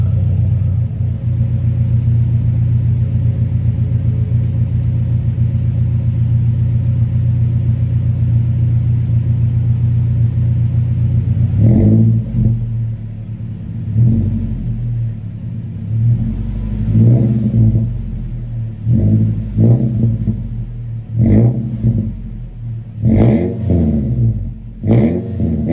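A 2nd-gen Toyota Tacoma idles with a deep, steady rumble through a new Flowmaster muffler, then revs repeatedly in loud, close bursts that rise and fall.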